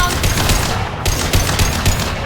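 Rapid gunfire from the Mass Effect 2 video game rattles in a loud continuous burst of evenly spaced shots, close and with no speech.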